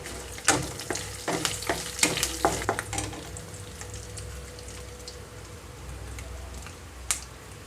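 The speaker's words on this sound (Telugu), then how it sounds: "ఈ తాలింపు వేగేటప్పుడే ఇందులోనే కరివేపాకు కూడా వేసేసుకుంటున్నానండి." Curry leaves land in hot tempering oil with mustard seeds and chilli. A burst of sharp crackles and spatters settles into a steady, softer sizzle, with one more pop near the end.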